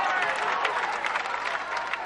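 A large crowd claps at an outdoor political public meeting, a continuous, fairly loud wash of many hands with a busy, rustling texture that holds steady throughout.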